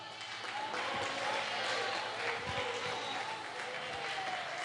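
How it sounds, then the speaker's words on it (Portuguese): Applause at a home church service led by a pastor: a small group claps steadily and continuously, moderately close, with some voices mixed in beneath the clapping. "Palmas."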